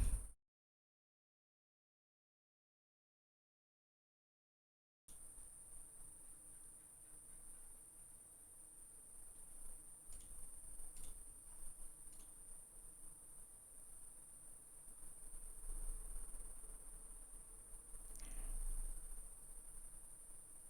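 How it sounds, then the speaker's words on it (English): Loud, continuous cricket chirping picked up indoors through a live-stream microphone after a brief silence, a steady high-pitched trill with a few faint clicks and rustles beneath it, no voices. "It's a fucking like cricket or some shit."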